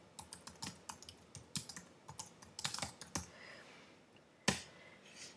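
Keystrokes on a computer keyboard tapping out a WordPress post title, a near series of uneven, hesitant clicks in short bursts with pauses between them, ending in one louder key strike.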